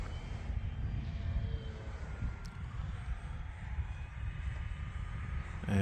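An FMS Pitts barnstormer-style RC model biplane drones steadily through a pass at quarter to half throttle, a continuous engine hum held at an even level throughout the pass.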